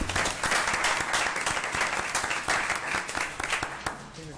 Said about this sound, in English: let's give her a higher round of applause